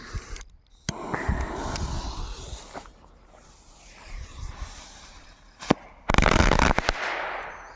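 Piromax M40 firecracker battery firing outdoors, loud sharp cracks and rapid bursts, a dense volley of bangs toward the end, no talk.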